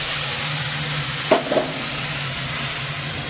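Spice paste of black pepper, cumin, turmeric and salt fries in oil for a thin magur fish curry, giving a steady close sizzle broken by two quick spatula scrapes midway.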